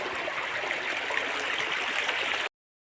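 Stream water flows past rocks in a steady broadband rush and gurgle, constant and moderately close, cutting off abruptly near the end.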